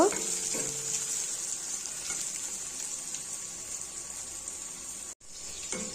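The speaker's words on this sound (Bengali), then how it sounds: "এই যে পেঁয়াজ দিয়ে শাক ভাজবো তাই শাকটা পেঁয়াজটা সুন্দর করে ভেজে নেব" Onion and leafy greens frying in a pan, a loud continuous sizzle close by with occasional stirring scrapes, a brief dropout near the end, no one talking.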